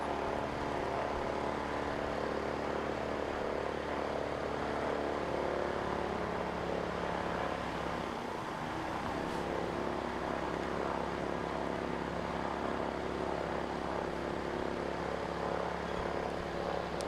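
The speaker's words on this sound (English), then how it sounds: "Looks like we're about to kick into the post-lunch hive of activity with the little training aircraft here." A small propeller training aircraft drones at Christchurch Airport, a steady moderately distant engine hum with faint tonal bands, holding level throughout with no voices.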